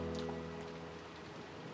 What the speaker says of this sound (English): it certainly was a windy rain